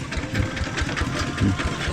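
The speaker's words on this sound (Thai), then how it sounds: "รถไถละ" A tractor engine chugs nearby in a rural village, a fast rhythmic mechanical putter with steady knocking pulses at moderate loudness and no clear talk.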